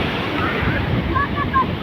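Sea waves at Marina Beach rolling in as a loud, continuous surf roar mixed with wind buffeting the microphone, with faint tonal chirps briefly rising over it.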